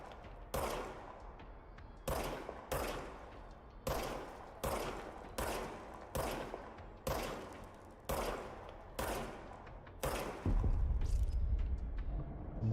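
Gunfire in the video game Control: roughly ten loud, evenly spaced bursts, each a sharp crack with a trailing decay, followed by a deeper, heavier rumbling blast near the end.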